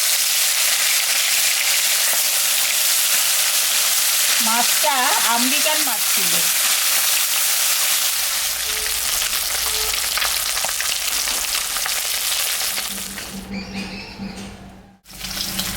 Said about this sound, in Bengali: মাছটা আমি ভাজছি